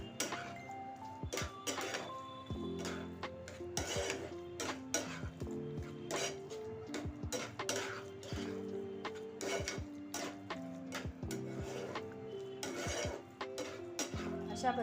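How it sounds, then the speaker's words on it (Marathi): Clattering utensil scrapes and taps against a pan as eggplant bharit with fresh coriander is stirred and mixed in a home kitchen, steady and close throughout with many small knocks and no speech. "मस्त अशी कोथिंबीर वरतून घालायची आणि हे छान मिक्स करून घ्यायचं"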